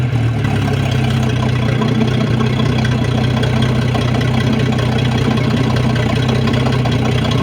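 A Sea Ray boat engine runs at a steady idle after starting, following shift cable bellows and exhaust bellows replacement, a loud continuous low chugging rumble close by and unchanging throughout.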